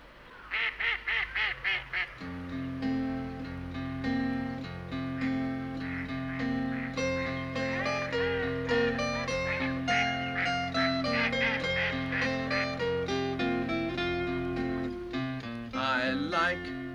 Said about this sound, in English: best of all I like the ducks who swim in Trumpton Park.